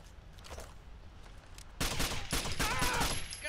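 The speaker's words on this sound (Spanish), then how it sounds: "¡Nos disparan!" Dense automatic gunfire erupts partway through a Terrorist Hunt firefight in Tom Clancy's Rainbow Six Vegas on the Border Town map, starting with faint scattered shots and then becoming a loud, sustained barrage with a high ringing tone.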